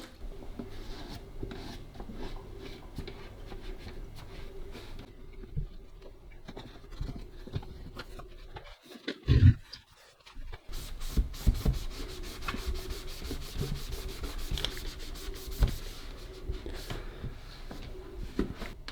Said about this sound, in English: now we're just going to get a damp cloth and I'm just going to rub it around the machine